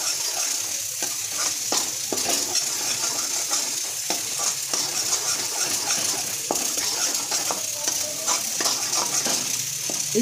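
Halwa for a fasting dish roasts in ghee while being stirred steadily, a continuous soft sizzle broken by frequent scraping and clinking strokes of the spoon against the pan, with no talking.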